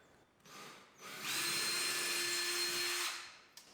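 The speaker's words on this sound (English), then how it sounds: "I'm going to drill a small pilot hole to begin with" A power drill whirs steadily for about two seconds with a brief lead-in, close and loud, drilling a small pilot hole in a garage wall, then winds down; no talking.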